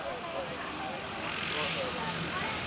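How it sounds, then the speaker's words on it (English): A Twin Otter aircraft's engines drone steadily on a takeoff roll, a sustained, moderately distant roar with a slight swell midway, under a talking voice. "Keep an eye on the twin Otter now."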